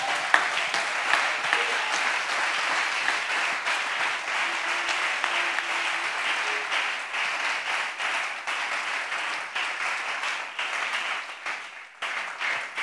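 A church congregation at a thanksgiving service applauds the Lord, sustained dense clapping from a large crowd that carries on for several seconds before thinning near the end.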